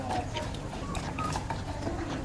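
Turkeys and other farm birds call and cluck together in an open-air enclosure in the morning, with short, overlapping calls over a steady background hum.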